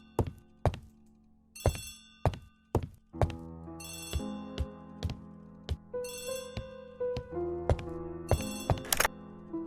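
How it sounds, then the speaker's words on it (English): An old-fashioned telephone rings in a quiet room, sounding as repeated short bursts of bright bell ringing with sharp knocks and clicks between them, fairly faint and with no voices. "Poirot, the telephone."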